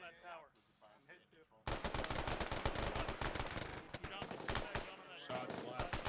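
Rapid automatic gunfire erupts in loud sustained bursts during platoon field training, following a stretch of quiet speech and continuing to the end with voices calling out between shots.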